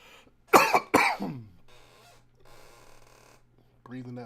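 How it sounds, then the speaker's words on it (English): Two sharp, close coughs in quick succession, then a low hum and faint murmuring before a voice begins at the end. "Breathing that pollution air probably got me coughing."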